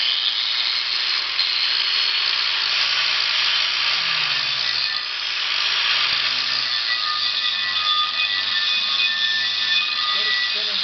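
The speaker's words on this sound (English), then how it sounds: "take a flap wheel on 90-degree grinder and make sure it's free spinning" A 90-degree angle grinder fitted with a flap wheel works a rusty brake rotor, giving a continuous high, whining grind with a buzzing edge that holds steady and close throughout, with no break in the sound.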